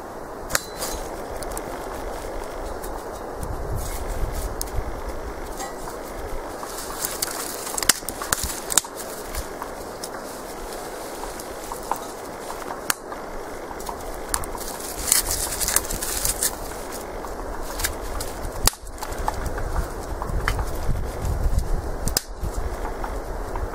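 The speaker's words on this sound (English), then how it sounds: "Woodpecker out there making sounds all the time." Outdoors, a woodpecker makes sporadic sharp tapping and calling sounds at a distance over a steady ambient background, with no one speaking.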